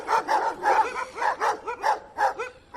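Several dogs bark in a rapid run of sharp, loud, close barks and yips, roughly eight or nine in under three seconds, with no talking.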